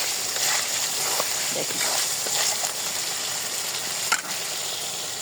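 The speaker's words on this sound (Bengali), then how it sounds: "চালটা একদম ধুয়ে নিচ্ছে" Raw rice for biryani is washed by hand in water, giving a continuous swishing, sloshing rustle with occasional small splashes, close up and moderately loud, with a brief spoken word.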